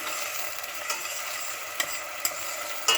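Grated onions frying in oil, a steady hissing sizzle close by, with a few sharp clicks of a utensil against the pan scattered through it.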